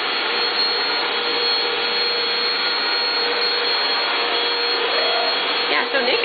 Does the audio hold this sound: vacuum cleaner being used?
yes